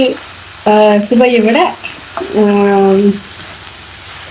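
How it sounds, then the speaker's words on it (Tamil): Onions sautéing in a pan for a potato curry to go with puri, with curry leaves, a steady soft sizzle running underneath a person talking throughout. "வெங்காயம் வந்து நல்லாவே வதங்கட்டும் அதில் அவசர வேண்டாம்"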